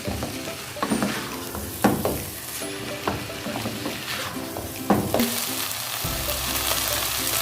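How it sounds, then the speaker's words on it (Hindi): Ingredients for a pizza topping sauté in a pan, giving a steady sizzle broken by repeated scraping strokes of a spoon stirring them, close and fairly quiet. "ऐसे अच्छी तरह भूनेंगे इसको"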